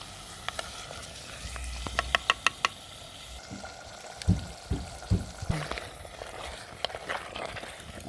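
Potato and mutton curry masala fries in a pan, giving a steady sizzle broken by clacking utensil taps and heavier stirring scrapes partway through.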